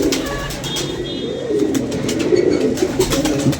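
Domestic pigeons coo in a low, continuous, throaty rumble that swells slightly partway through, close by, with faint chirps above and no talking.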